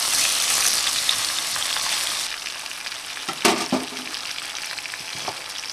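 Swordfish steak fries in a covered pan with a steady, bright sizzle, dropping slightly after a couple of seconds, followed by a few sharp clatters and pops as the fish settles.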